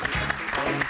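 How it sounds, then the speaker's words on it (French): A studio audience claps for two guests on a football talk show, with a brief, steady patter of applause lasting about a second. "tonnerre d'applaudissements pour nos deux invités de ce soir, Jérémy Lopez, Mourad Bellamida"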